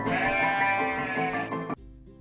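A single sheep gives a long, wavering bleat up close, ending abruptly before a short quiet tail.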